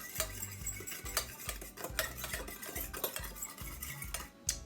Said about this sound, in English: I have some hot water, and I'm going to add some sugar to it. I'm going to mix this around.